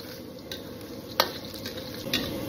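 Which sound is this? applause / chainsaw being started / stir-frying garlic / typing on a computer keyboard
stir-frying garlic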